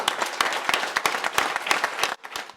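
Applause and clapping from a crowd at the Navarre Socialist party headquarters on election night, a dense, steady patter of many hands that drops off sharply near the end, with no talk over it.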